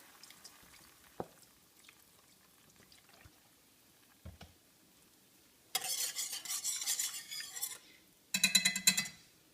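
Chicken stock is stirred in a pan for chicken marsala, with a soft clink early on, then two bursts of liquid swishing and scraping toward the end, close and fairly loud.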